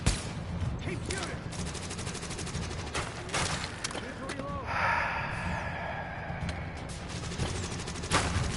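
Rapid bursts of gunfire in The Division video game, repeated sharp shots in quick volleys spread across the stretch, with faint breathy vocal sounds mixed in.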